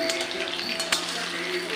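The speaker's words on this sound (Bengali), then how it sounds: "এবারে দেখো আলুগুলো ভাজতে দিয়েছি" Par-boiled potatoes fry in a pan for biryani, giving a steady, moderately loud sizzle with faint clinks of a utensil and one brief sharp knock near the middle.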